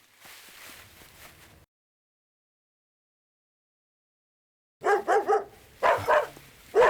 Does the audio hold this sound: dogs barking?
yes